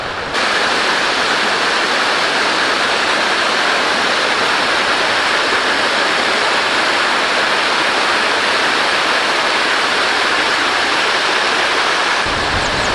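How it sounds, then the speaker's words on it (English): A waterfall on the Watkin Path in Snowdonia, Wales, roars in a loud, steady rush of white water, constant and close, with no other sounds breaking through. "you can get down below the falls, which are over here"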